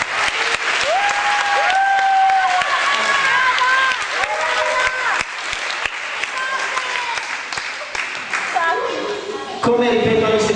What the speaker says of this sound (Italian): facciamo anche un applauso a Laura